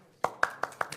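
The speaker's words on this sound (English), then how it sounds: "Give them a clap, why not?" A few scattered hand claps from an audience at a u3a Third Age Trust annual general meeting, about four separate sharp claps spaced evenly over a second, fairly faint in a quiet room.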